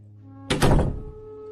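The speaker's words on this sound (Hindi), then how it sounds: "नंदू दरवाजा खोलता है।" A house door opens with a single heavy thunk followed by a brief rattling scrape, close and loud over a steady low background hum.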